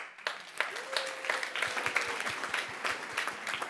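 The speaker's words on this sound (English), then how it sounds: "please give him a warm applause" Audience applause at an evening festival event, a steady crowd clapping for several seconds as a speaker is welcomed onto the stage.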